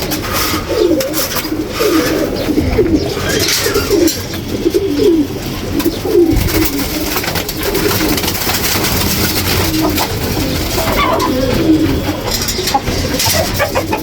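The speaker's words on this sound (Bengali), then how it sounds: "এই যে মাদি কবুতরটা এক হাতে ধরা যায় না" A female pigeon held in the hand coos repeatedly in soft, throaty, rolling phrases, close and fairly loud over a steady background hum.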